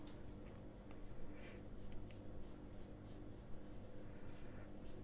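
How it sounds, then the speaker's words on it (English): A pencil draws lines on paper for a salt dough Easter egg template, a faint soft scratching in repeated short strokes over a quiet background. "I then need to draw lines to join them together so I get an egg shape"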